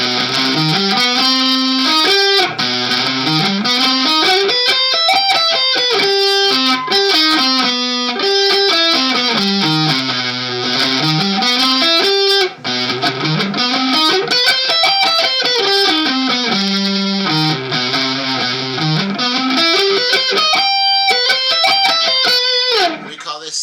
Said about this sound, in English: go to the next pair, which is a minor at the bottom and a major at the top, and it would sound like this